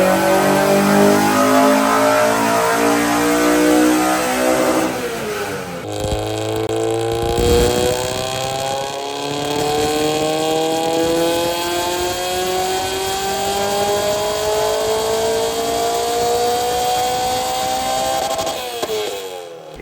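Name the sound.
car engine revving on dyno with velocity stack air intake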